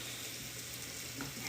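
A sweet onion caramelizing in oil with garlic gives a steady, close, even sizzle and hiss throughout, with no talking.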